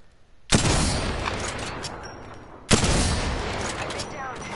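Two loud, close bursts of video game gunfire, each striking sharply then ringing on in a long rattling tail, with game chatter running underneath.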